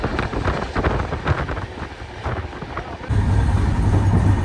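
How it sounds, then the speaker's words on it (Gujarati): A passenger train pulls away and gets moving on a Gujarat rail journey, with a steady low rumble and wind buffeting that grows louder and denser after a few seconds. "ટ્રેન ચાલુ થઈ ગઈ અને નીકળી ગઈએ"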